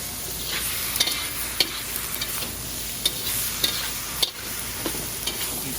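Drunken noodles with tomatoes stir-fry in a very hot wok, giving a loud continuous sizzle punctuated by sharp scraping clacks of the spatula every second or so.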